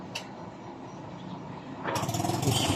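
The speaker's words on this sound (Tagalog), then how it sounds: "pressure washer, gan yan, ganyan lang guys." A pressure washer sprays an air conditioner condenser with a steady hissing rush that grows louder and harsher toward the end, close by.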